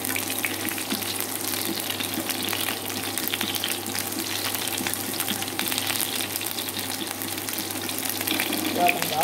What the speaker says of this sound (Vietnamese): Thì chúng ta xào cho nó đổi màu,